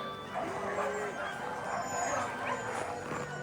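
Sled huskies at a Lapland husky farm in Finland bark, yip and whimper in quick overlapping bursts close by, with a voice also faintly present beneath the dog sounds.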